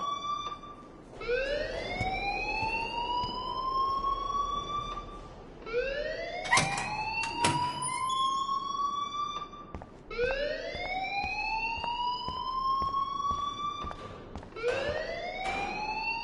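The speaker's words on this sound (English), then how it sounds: "please turn off that alarm since that's your job" An electronic alarm in the video game Life is Strange wails in repeated rising sweeps, each lasting several seconds, loud and continuous with no talk.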